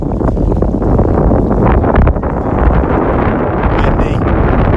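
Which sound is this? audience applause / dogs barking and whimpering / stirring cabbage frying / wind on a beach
wind on a beach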